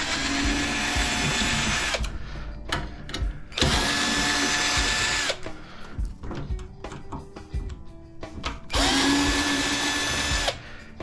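A power drill backs screws out of a microwave being scrapped, in three loud whirring bursts of about two seconds each, separated by quieter stretches of clicks, clinks and handling of small parts.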